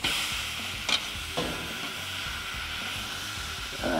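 Fajita meat sizzles steadily on a Weber kettle grill, a constant close frying hiss with a few brief clicks and scrapes from handling the meat.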